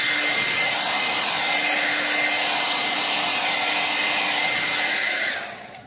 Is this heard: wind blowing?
no